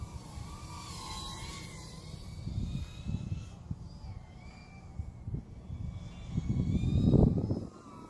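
On a frosty night, an FPV drone's motors give a faint, distant, wavering whine that rises and falls in pitch, with low rumbling gusts swelling near the end.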